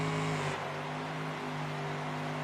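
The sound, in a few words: pulling tractor with three big block Chevy engines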